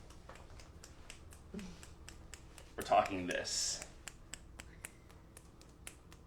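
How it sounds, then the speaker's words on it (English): Fingers clap repeatedly during couples yoga, a regular series of soft, sharp taps close by, with a brief stretch of talking and laughter partway through. "Arms reach nice and wide, and then start to clap the fingers."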